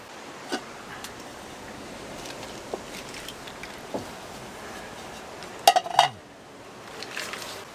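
Shellfish tossed into a pot of water heating over a wood fire by the sea, making a brief, close clattering splash with clinks against the pot, set against a quiet, faintly rustling outdoor background.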